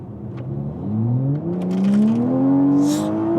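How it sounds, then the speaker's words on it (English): A Toyota Mk5 Supra accelerating hard in a pull, its engine note rising steadily and loudly with turbo whine building above it, heard close up from inside the car with no talking. "I love the turbo noise coming from there"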